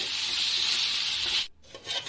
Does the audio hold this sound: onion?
yes